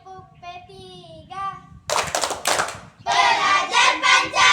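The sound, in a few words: class rhythmic clapping, Tepuk P3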